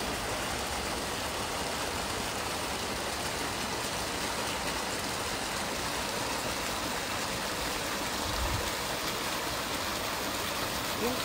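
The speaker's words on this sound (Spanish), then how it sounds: "la cascada de agua servida" A continuous rush of sewage water falling from a drain pipe splashes loudly and evenly nearby, with a faint low thump near the end.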